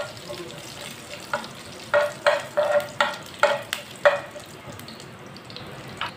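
Dry coriander and cumin seeds roasting in oil in a pan, a quiet sizzle under a run of sharp, rhythmic stirring scrapes and taps in the middle, then fading back to a low hiss.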